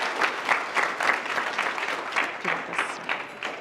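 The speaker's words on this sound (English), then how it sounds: "Let's give Ms. Carrie a round of applause" An audience applauds after a presentation at a 2019 OKC FFA event, a moderately sized crowd giving steady, fairly soft clapping that pulses unevenly throughout.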